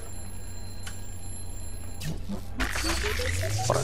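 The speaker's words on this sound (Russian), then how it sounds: "Ох, будильник." In the LEGO Star Wars: The Force Awakens video game, an alarm clock starts ringing with a rising run of electronic tones after a couple of sharp bursts, over a steady hum while someone talks.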